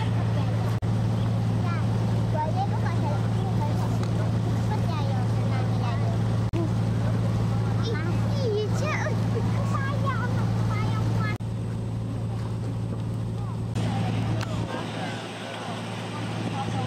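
A large tour boat chugs along a city river with a low, steady motor drone throughout. Voices talk over it, and the drone drops away near the end.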